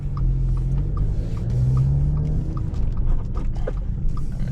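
A manual car engine drones low and steady while driving in first gear, a constant close rumble inside the cabin with slight pitch shifts and small knocks, no talking.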